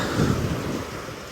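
Stormy sea with rough waves and gusting wind, a steady broadband roar with mic buffeting, loud and close, no talk.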